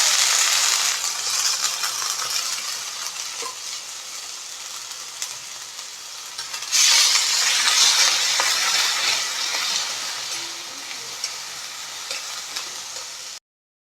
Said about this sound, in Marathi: त्यानंतर भिजवलेला तांदूळ आपल्याला थोडासा तेलामध्ये भाजून घ्यायचा आहे